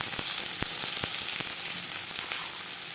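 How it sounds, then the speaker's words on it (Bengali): Chopped onion frying in hot refined oil in a pan, a steady bright sizzle with sharp crackles and pops scattered through it, close and continuous with no talking. "তেল গরম হয়ে গেছে, এবার দিয়ে দেবো পেঁয়াজ কুচি"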